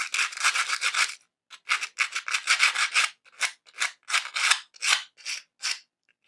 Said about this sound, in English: the 60 grit sandpaper is really nice at taking a lot of these burrs off